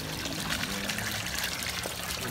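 A koi pond bubbler water feature in a garden pond, giving a soft continuous trickle and splash of falling water, faint and steady with no voices.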